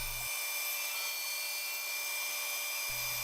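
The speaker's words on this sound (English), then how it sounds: "Next, I'm cutting 7 slices off the segmented disc" An automated band saw slicing thin pieces off a segmented wooden disc, a steady even rasp of the blade through wood, continuous and close, with a brief change near the end.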